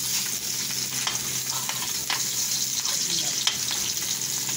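Pre-boiled black pork meat fries in a pan with a steady, close hiss and sizzle, broken by occasional scrapes and clinks of stirring.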